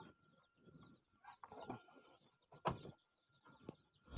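Free-range native Indonesian village chickens (ayam kampung) cluck softly and intermittently in the distance, with scattered faint rustling and knocks around them.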